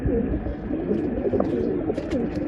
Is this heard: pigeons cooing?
yes